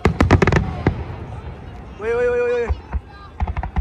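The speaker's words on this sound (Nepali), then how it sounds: "कस्तो दामी पड्किरहेको है साउन्ड बवाल छ तर बम फुटे जस्तो है" Fireworks burst at a hanami festival in Narita, Japan, with sharp cracks and pops in quick bursts, a brief tonal whistle in the middle, and scattered explosions again at the end.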